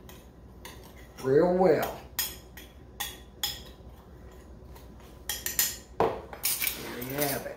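Seasoning for St. Louis-style BBQ ribs stirred in a bowl with a utensil, giving irregular scraping clinks of metal against the bowl, fairly close, with a person speaking briefly partway through.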